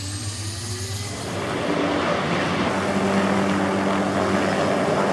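A helicopter's engine spools up in DayZ, an idling whine and low drone that swell louder after the first second into a steady, sustained rotor and turbine roar, close by with no talk.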